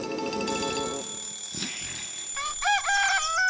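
A rooster crows once, clearly and up close, set among tinkling chime-like tones and clock-like ringing. It ends with a short burst of shrill, clucking calls, and no one speaks.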